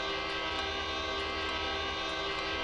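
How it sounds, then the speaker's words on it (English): A sustained train horn blares from a passing train in Train Simulator 2015, steady and loud over a rumbling rail background. No talk. "Wake up, everybody! The train is here! And the train is gone."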